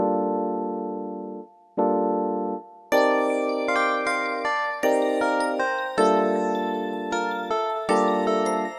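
A mellow plugg-style instrumental beat made in FL Studio opens with sustained chords, then layered plucked melodies join in, rhythmic phrases repeating clearly up close.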